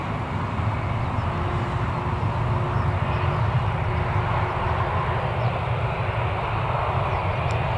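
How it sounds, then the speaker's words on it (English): Jet2 aircraft engines whine and roar steadily at Newcastle Airport, a constant broad drone with a faint tonal hum, heard from a distance with no voices. "Right, so the Jet 2 is going to start moving now,"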